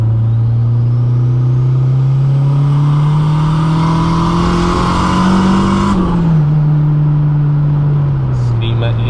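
A K-swapped Honda Jazz race car engine revs hard and steadily as it climbs in pitch, loud and close from inside the cabin, then drops abruptly around a gear change while the drone carries on.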